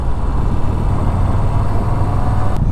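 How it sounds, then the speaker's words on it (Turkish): A Moto Guzzi V7 Stone motorcycle engine runs with a steady, fairly mellow low drone and road noise. It is close and continuous, with no talk over it. "biraz böyle beklediğimden uysal bir motor sesi var."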